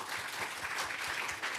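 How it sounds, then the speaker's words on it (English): A forum audience claps at a renewable energy event, a brief stretch of steady, dense applause of moderate loudness with no voices over it. "Let's give a round of applause for our event today"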